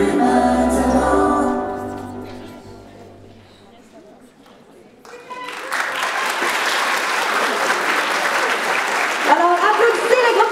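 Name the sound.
audience applauding the group after a concert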